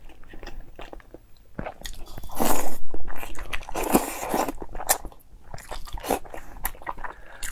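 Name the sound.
person biting and chewing eggs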